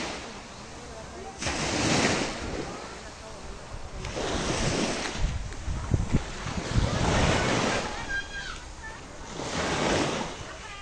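Ocean waves at Bolisong Tagok beach roll in and break in four broad surges spaced a few seconds apart, close and full, with wind rushing over the microphone and a voice briefly in the background.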